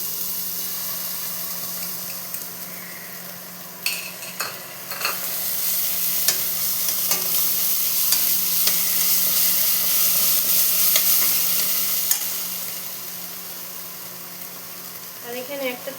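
Ginger-garlic paste hitting onions already frying in oil in a Bengali kitchen, giving a steady broadband sizzle with intermittent scraping stirs and a few clinks, fairly close and continuous throughout.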